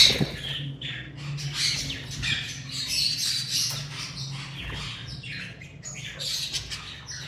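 A breeder pair of pet birds, a fallow female and a TCB male, squawks and chirps nonstop in a pet shop in Islamabad, with busy, overlapping calls close by and no voices.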